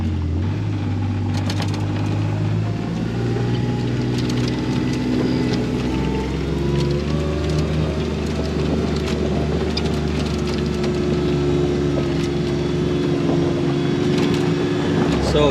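Off-road vehicle rolling along a rural lane in the Ozarks of southern Missouri, its engine droning steadily close by amid rattles and bumps, with people talking over the noise.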